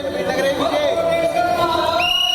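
Crowd of devotees thronging Shiva temples on a Sawan Monday, a dense steady hubbub of many voices with scattered calls and a rising tonal chant or whoop near the end.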